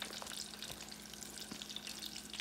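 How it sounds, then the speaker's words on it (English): Frozen Aldi samosas fry in hot oil, giving a faint, continuous bubbling hiss peppered with small pops, heard close and alone. "And then I'm just putting these into the oil."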